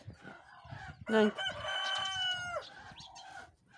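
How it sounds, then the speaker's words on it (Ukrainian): A rooster crows loudly and close by, its long call rising and falling, with softer clucking and chatter from hens and ducks around it in snowy weather. "Ось мої курочки, качечки трохи поїли і щось їм таке не подобається."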